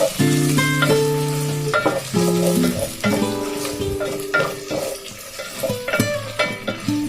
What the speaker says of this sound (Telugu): ఒక నిమిషం వేపిస్తాను.